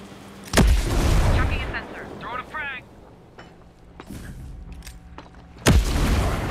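Two sharp, loud grenade blasts in Ghost Recon Breakpoint, each with a rumbling tail, come several seconds apart while a voice talks and faint battlefield noise continues between them.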